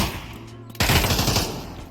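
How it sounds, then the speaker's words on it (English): In a VR shooter game match, loud gunfire erupts abruptly after a brief quiet stretch, with rapid automatic bursts that are close and dense and continue to the end. "we can hear how loud the gunfires are"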